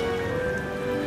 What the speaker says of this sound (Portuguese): De repente, começou uma chuva muito forte.